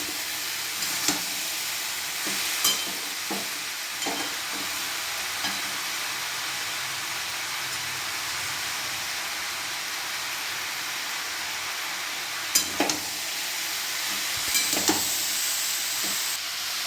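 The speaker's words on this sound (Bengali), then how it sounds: "এক মিনিট এটা ভাজা ভাজা করব।" Masoor lentils fry in a pan for a banana plant stem curry, with a soft, constant sizzle broken by occasional sharp scrapes and taps from stirring, close and without talk.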